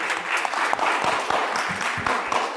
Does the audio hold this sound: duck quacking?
no